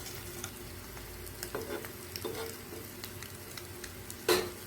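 Cut eggs and masala are stirred in a frying pan, giving a soft steady sizzle broken by scraping spatula strokes and a louder clatter near the end, with no talking.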